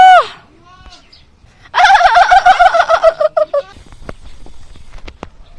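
A turkey gobbles loudly and close, a rapid burst of rattling calls lasting about two seconds, preceded by a few softer bird calls.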